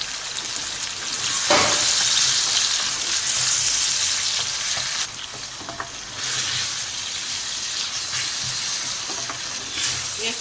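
Okra frying in a pan with tomato, green chilli and a small raw mango, stirred steadily for a couple of minutes; a loud, continuous close sizzle with scraping stir strokes and no talking.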